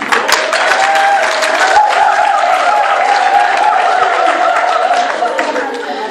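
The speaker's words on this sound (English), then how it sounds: "I want us to give her a round of applause" Applause from a gathering at a women's event in the Gauteng Premier's office, a sustained wash of clapping from a sizeable crowd with a tonal hum running beneath, loud and even, easing slightly toward the end.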